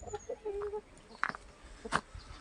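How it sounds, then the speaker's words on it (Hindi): Roosters cluck in a village poultry shed in the Gangolihat–Berinag hills. Short, close cackles and single clucks come in scattered bursts over a soft background. "ये मुर्गे।"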